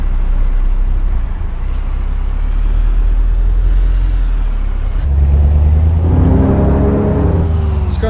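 A modded car's engine in American Truck Simulator roars loudly and continuously, building into a stronger revving surge over the last few seconds, with no talking.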